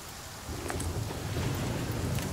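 Rain pours steadily in the survival video game The Flame in the Flood: a constant hiss that thickens after the first half second, over a low rumbling bed, with no voices.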